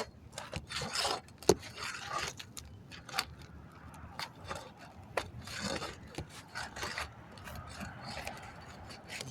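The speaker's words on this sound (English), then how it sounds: "Now I'm going to remove the shingle from the decking." Shingle being pried and scraped off roof decking, a faint, irregular run of scraping, rubbing and ratcheting sounds with occasional sharper snaps, fairly close and with no talk.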